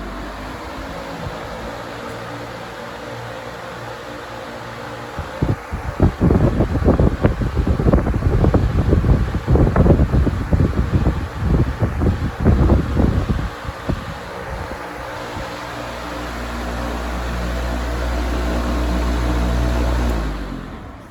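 A Patton U2-20 fan with a new blade runs on high speed, giving a loud, steady whooshing rush with some buffeting and a rising drone near the end.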